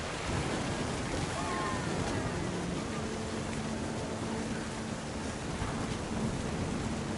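A wind and rain storm in the game What Remains of Edith Finch: steady, dense rain and rushing gusts roar without a break, with a faint low rumble beneath.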